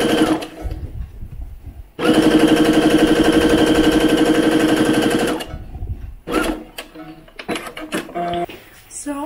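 A sewing machine stitches a doll's maxi dress in one steady, rapid burst of about three seconds, close and loud, followed by brief clicks and handling noises.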